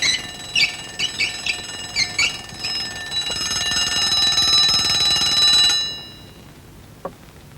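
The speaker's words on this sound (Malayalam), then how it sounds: "അലാറം അടിച്ചു." A bright, metallic alarm clock rings loudly and close by, starting in stuttering bursts before settling into a continuous shrill jangle that cuts off abruptly, followed by near silence and a single faint click.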